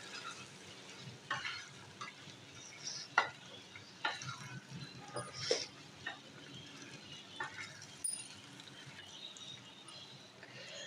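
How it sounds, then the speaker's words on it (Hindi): A spoon stirs kaleji karahi masala in a pan with a soft sizzle of frying underneath, faint scraping strokes recurring irregularly, close and quiet with no talking. "इसको कर लेंगे जी मिक्स।"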